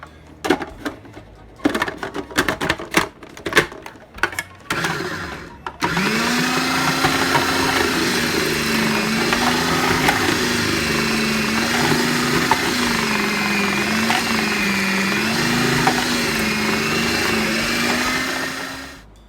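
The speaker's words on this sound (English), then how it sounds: "you can use a food processor with the shredder attachment" A food processor with a shredder attachment grating potatoes runs as a steady loud motor whine with a wavering pitch, preceded by several sharp clattering knocks.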